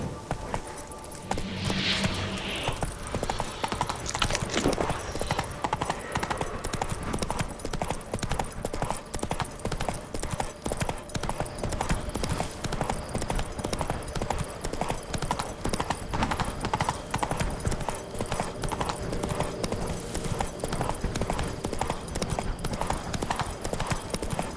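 Roach, the horse in The Witcher 3, gallops with fast, continuous hoofbeats throughout, up close and steady over ambient game sound.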